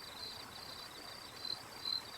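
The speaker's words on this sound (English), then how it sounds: "Crickets and the bubbling water." Faint chirping of crickets over a soft, steady bubbling of water at a beach resort in Costa Teguise, Lanzarote, in January, quiet and continuous.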